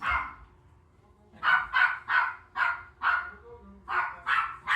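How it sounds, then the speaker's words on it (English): A dog barking persistently indoors, a quiet pause followed by about eight loud, evenly spaced barks in a steady rhythm, fairly close. "She will not stop barking."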